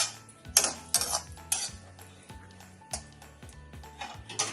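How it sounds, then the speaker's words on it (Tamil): A spoon repeatedly scrapes and clinks against a pan while cashews fry in hot ghee for rava kesari, sharp metallic strokes at an irregular pace over a quiet background. "நெய் சூடாகிடுத்து, இந்த முந்திரி பழத்தை போட்டு முன்னாடி வறுத்துக்கலாம்"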